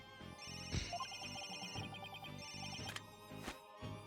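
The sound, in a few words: phone ringing in Phoenix Wright video game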